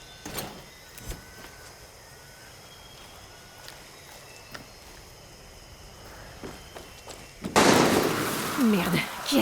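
Gunshots in Far Cry 6 crack out as a few sharp isolated pops across a quiet, hissy stretch, followed by a louder, denser burst of noise near the end.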